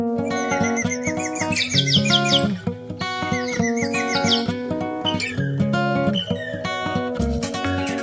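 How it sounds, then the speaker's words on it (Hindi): A pair of parrots chirps and tweets in quick repeated bursts over steady musical tones, fairly loud and continuous throughout. "एक जोड़ा तोता है"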